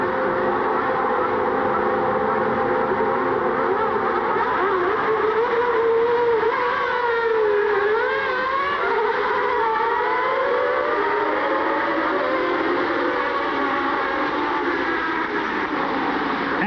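Formula 1 cars of 1990 screaming through the opening lap of the Belgian Grand Prix at Spa, a sustained loud wail of engines with pitch sweeping up and down as the pack passes, no talk over it.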